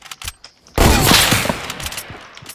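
Video game gunfire erupts in a sudden loud, close burst of rapid shots that rings out and decays over about two seconds, with a few faint clicks before it.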